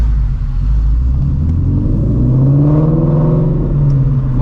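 Straight-piped Shelby GT350 with its catalytic converters still fitted, blipped during a downshift rev match on a city drive at night: a loud, continuous engine drone that rises in pitch mid-clip and then settles, with no voices.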